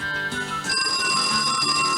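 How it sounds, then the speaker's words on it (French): A telephone rings on a 1992 French Sunday-morning children's television show, a continuous electronic ringing tone that holds steady and grows slightly fuller partway through. "Ah, le téléphone."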